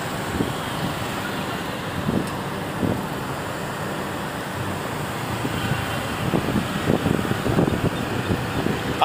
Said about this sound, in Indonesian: Di sini lagi banyak angin